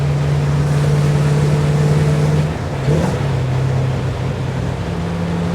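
The engine of a 1953 Allard K3 car runs with a steady, loud, low droning hum. A brief dip and revving change comes near the middle, then it settles back into an even idle-like drone.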